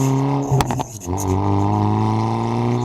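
Hyundai Veloster with a Depo Racing downpipe and no catalytic converters, its exhaust droning with a raspy, steady tone up close, a brief burst of clatter near the start before the note settles and holds.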